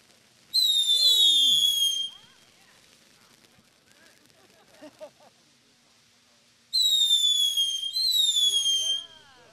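Consumer fireworks in a show, including the Supernova cake, send out loud whistling shrieks in two long bursts separated by a quieter stretch of faint crackles and pops.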